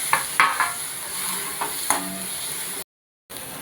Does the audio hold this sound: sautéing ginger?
yes